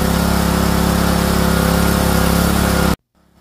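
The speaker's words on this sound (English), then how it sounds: "Start the machine. Once you start the machine, set the gray choke lever back towards the right." A Billy Goat PR550-H dethatcher power rake engine running loud and close at a steady, even idle with a constant humming drone, cutting off abruptly near the end.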